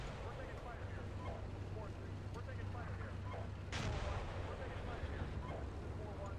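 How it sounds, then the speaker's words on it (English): Mortar rounds landing near tanks in the tank simulator Steel Beasts, distant low booms with one sharper, louder impact midway, beneath radio chatter and rumbling ambience. "We got mortars coming in on tanks."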